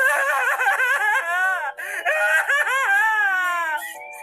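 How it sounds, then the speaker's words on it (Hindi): A high, wavering wail of crying rises and falls in long sobbing cries, loud and close, with a brief break in the middle. "और फिर किसी के रोने की आवाज आई।"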